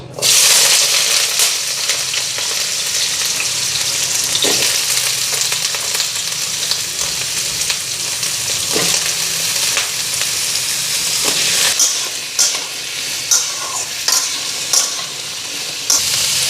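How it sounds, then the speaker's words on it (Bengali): Potato and squash pieces are tossed into hot oil with black cumin in a pan, setting off a loud, dense sizzle with stirring and scraping, close by, continuing steadily with occasional sharper clatters. "আলু কোয়াশটা ভালো করে ধুইয়া নিলাম এখন সবজিটা দিয়া দিই"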